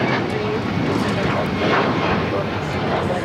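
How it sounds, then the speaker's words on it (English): A United Airlines Boeing 737 MAX 8 takes off, a loud, continuous jet roar filling the short stretch evenly with no break. "This is United Airlines 1295 taking off to Bahui on the MAX 8."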